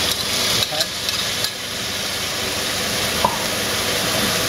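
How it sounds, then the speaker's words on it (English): Beef and golden-browned onions frying in a pan, a steady broadband sizzle running throughout with a few soft clinks and stirring knocks, fairly close and even in level. "The onions are now ready, so we'll return the beef to the pan."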